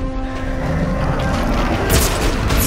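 Weapon fire in the video game Dead Space 3 booms loudly in rapid bursts over a dense, rumbling game soundscape, with sharper blasts toward the end.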